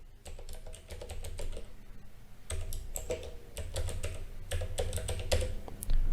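Fingers tap on a computer keyboard in quick bursts of keystrokes separated by short pauses, close and clear with no voices.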